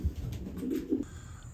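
A racing pigeon coos close by in a few low, throaty pulses that run on for about a second before fading under light background noise.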